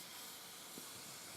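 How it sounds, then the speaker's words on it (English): Moulinex Globe Trotter CHA141 travel steam iron releasing a short, faint, steady hiss of steam, heard alone with no voices. "let's give her a blast with the steam"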